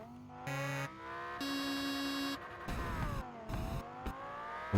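Car engine in the Estage Agent Simulator video game, several bursts of revving that rise and fall in pitch with brief gaps, loud and close, no talking.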